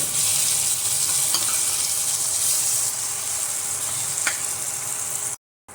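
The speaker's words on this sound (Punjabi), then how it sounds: "ਹੁਣ ਇੱਥੇ ਟਮਾਟਰ ਪਾ ਦਵਾਂਗੇ ਟਮਾਟਰਾਂ ਨੂੰ ਪਿਆਜ਼ਾਂ ਦੇ ਨਾਲ ਮਿਕਸ ਕਰਾਂਗੇ" Tomatoes stirred into onions frying in a pan for a mixed dal, giving a steady, close, continuous sizzle with faint stirring scrapes and no talking, before cutting off abruptly at the end.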